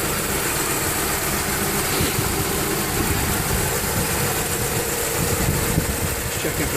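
Audi engine idling steadily right after a spark plug change, a close, even mechanical drone with constant hum and hiss and cooling fans spinning, no surges, for the whole stretch.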